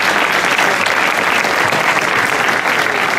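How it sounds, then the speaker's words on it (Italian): Loud, steady applause from a crowd at a motor racing hill-climb event, a dense wall of clapping that holds at full strength throughout without talk over it. "farei un applauso io a Saro."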